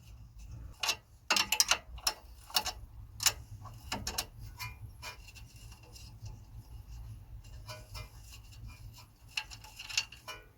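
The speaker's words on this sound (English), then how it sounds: "anti-roll bar top linkage, I'm gonna be using a 14mm socket" Ratchet on a 14mm socket undoing the anti-roll bar top link on a Honda Civic, giving bursts of quick clicking ticks with pauses between, close and fairly loud over a low steady hum.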